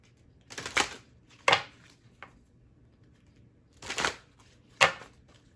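Tarot cards being shuffled in several short bursts of riffling and slapping, close and fairly soft, with quiet gaps between the bursts.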